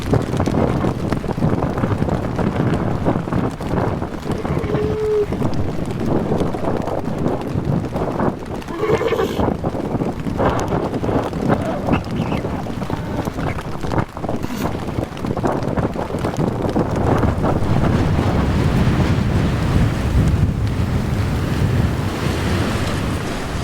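Loud, steady wind roars across an exposed New Zealand sea lion colony in extreme wet, cold weather, with broadband gusting noise and surf-like rushing throughout, buffeting the microphone.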